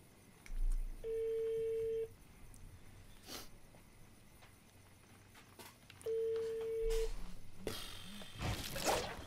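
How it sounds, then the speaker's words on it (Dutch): An outgoing phone call rings through on a handset: two long, clear ring tones about five seconds apart, with quiet rustling and handling noises between them and a louder burst of noise at the end. "Ik eh, ga hem opbellen."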